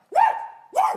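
A voice imitates a dog with two quick, loud barks in a row, close to the microphone.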